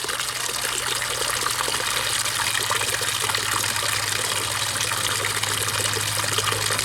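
Water flows steadily through a mineral separator: a loud, continuous rushing gush with a low hum beneath it that holds at the same level the whole time, with no voices.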